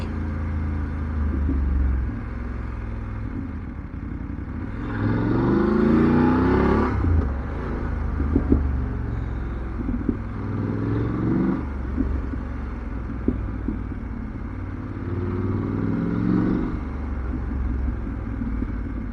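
Road traffic flows past a Triumph Bonneville motorcycle, a steady engine drone and wind rumble with several swelling whooshes of passing vehicles, continuous and fairly loud throughout.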